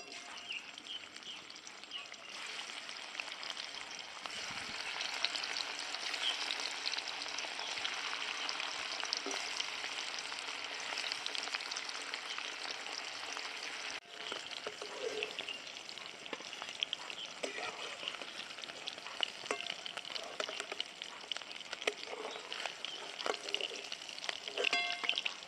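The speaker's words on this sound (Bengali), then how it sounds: "দেখো হালকা করে ভেজে নিচ্ছি" Egg mixture fries in a pan with cabbage, giving a steady, loud sizzle and crackle that runs unbroken throughout, with faint stirring scrapes near the end and no talk.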